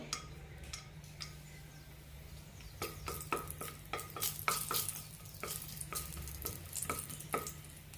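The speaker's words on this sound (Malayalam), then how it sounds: "ഒരു അര ടീസ്പൂൺ എണ്ണ ഒഴിച്ചിട്ടുണ്ട് ഒരു പട്ട ഒരു ഗ്രാമ്പൂ ഏലക്ക ഇടാം" Cinnamon, clove and cardamom frying in half a teaspoon of oil for a cluster beans curry, giving a low steady sizzle with a run of sharp, close crackles and pops in the middle, and no voices.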